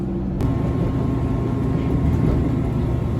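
Inside a moving Northern class 331 train, a steady low rolling rumble and hiss fills the carriage, with a brief click near the start and no voices.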